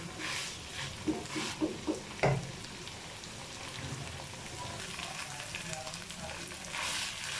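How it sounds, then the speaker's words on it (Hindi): Chicken chilli qeema with green chillies frying in a pan, a steady soft sizzle with a few sharp stirring knocks early on, moderately close and without speech. "थोड़ी देर हम भूनेंगे इसे बस, फिर करेंगे डिश आउट।"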